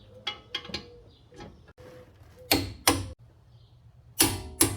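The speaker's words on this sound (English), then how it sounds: "Torque the two 21mm caliper bolt to 196 Newton meters." A torque wrench ratchets and clicks while tightening the two 21mm front brake caliper bolts on a supercharged 2014 Audi Q5, with a few quick light taps followed by several loud, sharp mechanical clacks close by.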